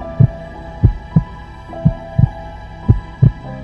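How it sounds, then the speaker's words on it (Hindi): Heartbeat sound effect for a horror story, steady paired thumps repeating about every second, deep and loud over a low hum, with no talk. "तीनों दोस्तों का दिल तेजी से धड़कने लगा"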